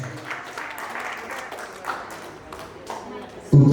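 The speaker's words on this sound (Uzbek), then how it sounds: "Dunyo qizimizni ana qizimiz uchun bir qarsak chalib qo'yamiz" Applause from a small indoor gathering at an annual reunion, honoring a girl named Dunyo on her birthday: a steady patter of clapping hands with voices mixed in underneath, ending with a louder, closer burst.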